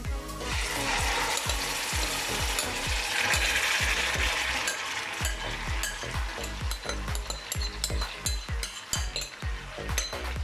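Marinated mutton for karahi gosht sizzles and fries in a hot pan, with a rapid run of clicking, scraping stirs over a constant hiss.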